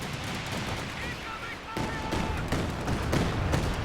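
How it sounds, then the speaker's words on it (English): Artillery barrage in Company of Heroes 2, a dense, continuous roar of shell impacts and gunfire with sharper blasts toward the end, loud and steady, with a voice talking over the battle. "It's just artillery onto this VP now as well."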